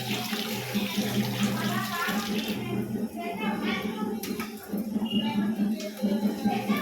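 Tap water runs steadily into a sink while raw chicken is rinsed, a continuous splashing wash with a voice talking over it.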